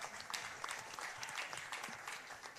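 Audience applause at an event on intellectual property and the music industry, a short, dense burst of many hands clapping, fairly distant and even throughout.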